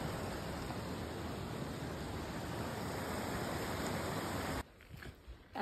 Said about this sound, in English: Creek crossing number one.